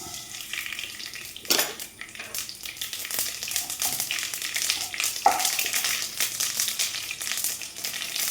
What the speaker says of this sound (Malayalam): കടുക് പൊട്ടിയിട്ടുണ്ട് കേട്ടോ